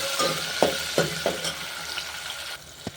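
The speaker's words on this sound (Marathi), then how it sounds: "इथं टाकलं तेल लसण जिरं मोहरी तडकू दे तडकलं" Mustard seeds, cumin and garlic crackle and sputter in hot oil during tempering, a steady close sizzle broken by several sharp pops, with no voices.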